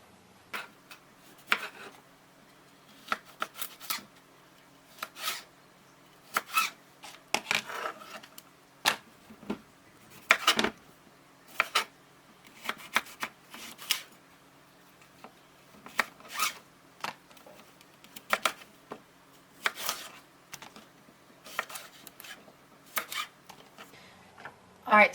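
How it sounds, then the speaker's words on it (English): A knife cuts cucumbers into strips on a cutting board in quick bursts of sharp chopping taps, with short pauses between them, close and fairly crisp against a quiet background. "I'm going to just cut these up into strips so that I can go ahead and put them through the salad shooter"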